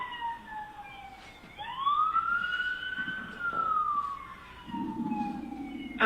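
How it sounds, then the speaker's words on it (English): A police car siren wails in long rising and falling sweeps that grow louder as it approaches, with a low engine rumble joining toward the end. "I can hear the sirens now."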